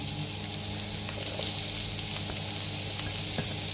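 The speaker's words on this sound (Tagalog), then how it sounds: "So guys, unahin natin igisa ang ating ginger" Ginger, garlic and onion sautéing in a hot pan, a continuous close sizzle with occasional sharp pops and faint stirring clatter throughout.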